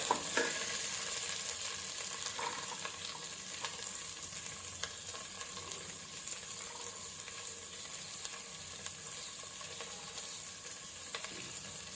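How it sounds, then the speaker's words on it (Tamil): Sliced onions fry in hot oil for a vegetable biryani, producing a constant close sizzle with occasional stirring scrapes and light taps against the pan, and no voices. "அந்த வெங்காயத்தை 2 வெங்காயத்தை அது கூட போட்டு நல்லா வெங்காயத்தையும் ஃப்ரை பண்ணிக்கலாம்"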